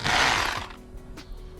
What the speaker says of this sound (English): Then I drill a 6mm hole into the wall.